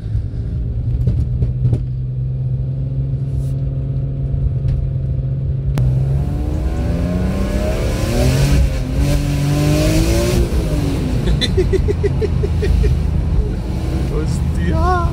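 BMW M3 with rear-wheel drive climbing a wet mountain pass, engine droning steadily then revving with rising and falling pitch sweeps, loud and close from on board, with a person speaking over it.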